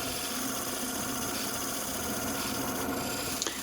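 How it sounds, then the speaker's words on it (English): A very thin, freshly sharpened parting tool cuts a small recess into an ebony lid spinning on a wood lathe, giving a steady, close, continuous rasping scrape with no talk. "using a very thin parting tool here to cut the little recess I need"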